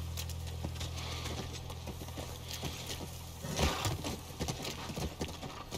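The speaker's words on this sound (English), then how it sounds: "That's our horse." Horse hooves clip-clopping near a ranch in The Last of Us Part I, a steady run of light hoof strikes over a low constant hum, growing a little louder and busier toward the end.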